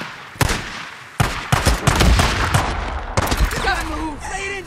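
Dense, loud gunfire in the zombie survival game Days Gone, with rapid overlapping bursts and machine-gun fire in a chaotic firefight and shouting voices mixed in.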